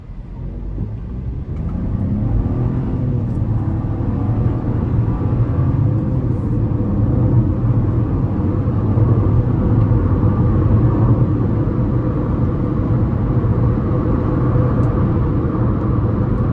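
A 2025 Chevy Trax 1LT with a 1.2-liter turbocharged three-cylinder engine pulls under moderately firm acceleration, a steady low engine drone and road rumble heard from inside the cabin, with no talk.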